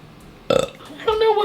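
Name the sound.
burp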